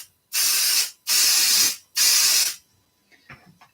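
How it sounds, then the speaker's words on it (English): Three long, steady hissing sprays of aerosol adhesive onto fabric, each about half a second to a second, followed by faint rustling. "careful not to spray so much that you're like making it wet on the other side"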